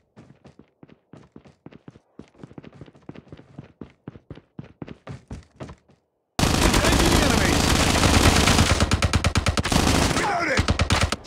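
Gunfire in Call of Duty: a run of separate, evenly spaced shots and footstep-like thuds, then after a brief gap a loud, sustained stretch of rapid automatic fire with dense battle noise.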